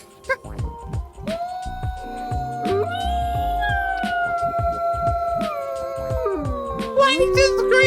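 A wolf howl, a long sustained high wavering tone rising and falling over nearly eight seconds, with clustered dog-like yips and whimpers near the end, heard under people talking close by.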